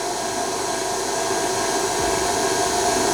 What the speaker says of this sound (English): Back on with the whisk, and then what we'll do is we lower this down, and this time what we're going to do is just gently incorporate this